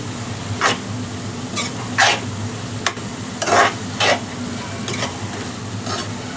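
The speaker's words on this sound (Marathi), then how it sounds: "एक चमचा हळद टाकले तेलातच परतायचं तेल असतानाच" Turmeric stirred and sautéed in hot oil for a Marathi-style palak dal, with a steady sizzle of frying under repeated scraping stirs of the spoon in the pan, close and fairly loud, and no talking.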